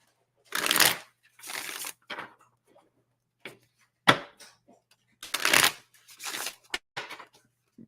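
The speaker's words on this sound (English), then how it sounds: "I gotta shuffle first" Playing cards are shuffled in several quick, crisp riffling bursts separated by short pauses, close by and fairly loud.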